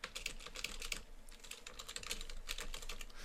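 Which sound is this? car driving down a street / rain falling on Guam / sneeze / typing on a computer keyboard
typing on a computer keyboard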